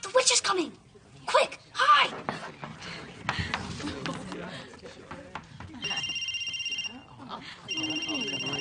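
A telephone rings in two sustained electronic bursts near the end of an indoor sitcom scene, following overlapping conversation and bursts of laughter.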